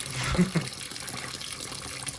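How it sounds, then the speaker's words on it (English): A Panasonic 9.5 kg top-load washing machine fills with cold water, a soft steady splashing rush, with a couple of faint knocks near the start. "when it needs to top off the water level even more, it fills with cold."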